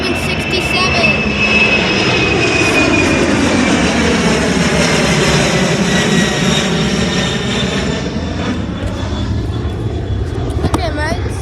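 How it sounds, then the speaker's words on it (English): A Boeing 767 jet takes off at Miami International Airport, its engines a loud, sustained roar with a rising whine and sweeping tonal shifts as it passes close by, filling the whole stretch. "What you just saw there was a 767 taking off from Miami International Airport."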